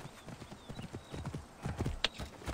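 Hooves of the Pharaoh's richly decorated horse in Assassin's Creed Origins clop in a steady rhythm close by, with a brief snort or whinny partway through.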